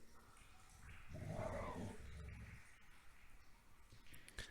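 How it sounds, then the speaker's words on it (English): A dog barks and whimpers in bursts at middle distance, with quiet room noise and occasional faint movement around it. "The dogs are acting up as soon as you get the camera out."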